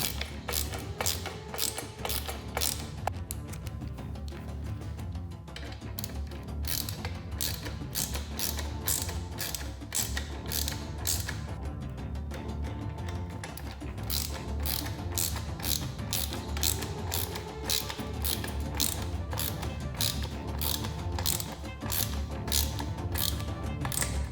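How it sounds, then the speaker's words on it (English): A torque wrench tightens bracket screws on an SW Motech adventure rack fitted to a BMW F850GS motorcycle. Rapid ratchet clicks repeat in quick, steady bursts with brief pauses and carry on throughout at close range. "go ahead and tighten them with a torque wrench to 8 Newton meters"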